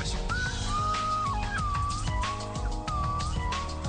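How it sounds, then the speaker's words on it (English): A slide whistle glides up and down in wavering, swooping tones over a busy musical backing, its pitch sliding in several distinct sweeps through the passage. "That's what they call a slide whistle."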